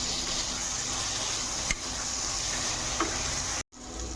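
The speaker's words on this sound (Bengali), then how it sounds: "আলুটা দিয়ে 5 মিনিটের মতো ভেজে নেব" Potatoes fry in a spiced tomato masala, a steady soft sizzle and bubbling hiss with a couple of faint clicks of stirring, briefly cut off near the end.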